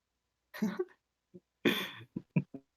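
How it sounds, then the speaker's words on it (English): A man clears his throat in a few short, gruff bursts with small pauses between, close and fairly quiet. "I heard he's clearing his throat"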